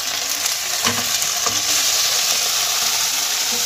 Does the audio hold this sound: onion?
yes